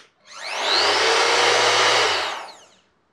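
A Festool ROTEX 90 random orbital sander at maximum speed spins up quickly to a loud, steady whirring hum, holds it for about two seconds, then winds down and stops.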